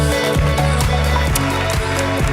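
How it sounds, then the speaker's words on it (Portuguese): Audience applause at a panel on aesthetic pressure, a steady wash of clapping that fills the room over a loud, throbbing music bed with a regular beat. "Palmas para elas"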